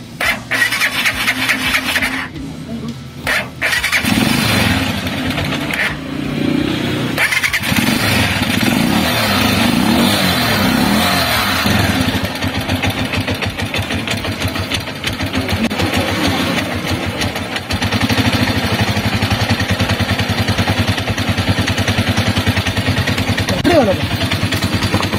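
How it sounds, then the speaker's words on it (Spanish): A motorcycle engine, just after carburetor repair, sputters into life and then runs and revs loudly and continuously up close, with brief dips early on. "simplemente armamos el carburador, lo colocamos en la moto y hacemos la pruebita"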